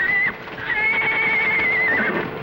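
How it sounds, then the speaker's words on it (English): Horses whinny loudly nearby, a long shrill neigh rising and wavering over faint hoof clatter in the background. "Sounds like the horses are loose."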